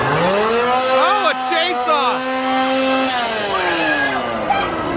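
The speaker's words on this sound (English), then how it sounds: "chainsaw! Chainsaw clown." A chainsaw engine revs loudly at a Halloween Horror Nights haunted attraction at Universal Studios Florida, rising and falling in pitch for several seconds amid crowd noise and excited voices.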